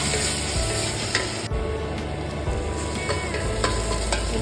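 Ginger-garlic and green chili paste sautés in a hot pan for a mutton kidney roast, giving a loud continuous sizzle with intermittent scraping and stirring clicks and no voices.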